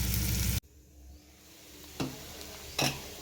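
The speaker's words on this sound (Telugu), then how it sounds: "బెండకాయ మంచిగా ఫ్రై అయిందండి." Okra sizzles in a pan, loud and close for a moment before it abruptly drops to a quiet, faint fry. Two short bursts of scraping or crackling follow.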